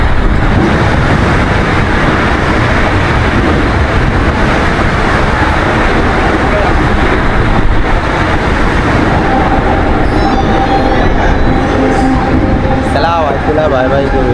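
A Mumbai local train bound for CST rumbles past in a loud, steady roar of wheels and carriages that lasts throughout, with a voice talking over the noise.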